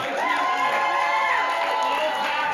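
A live audience at a podcast recording in Hollywood cheers loudly and steadily, a dense wash of whoops and shouts from a packed crowd.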